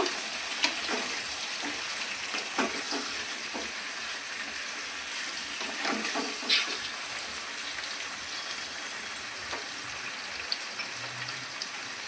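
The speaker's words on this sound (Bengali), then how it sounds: "ভালো করে নাড়াচাড়া করে নেবো" Prawns fry in a pan and are stirred, giving a steady, soft crackling sizzle throughout, with occasional light scrapes and taps of the spatula.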